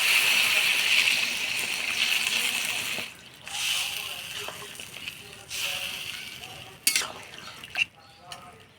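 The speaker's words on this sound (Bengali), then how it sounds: "এবার আমি জল দিয়ে দেব।" Water is poured into a pot of rice and fried fish heads, a rushing splashy stream in several bursts with metal utensil clinks and stirring toward the end.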